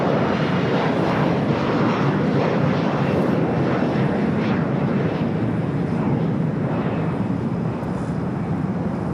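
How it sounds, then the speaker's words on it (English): A Boeing 787-10 Dreamliner in Stars and Stripes livery, inbound from Newark, arrives on the south side at LAX with a continuous heavy engine roar, loud and steady throughout. "Dreamliner in the Stars and Stripes livery coming up from Newark"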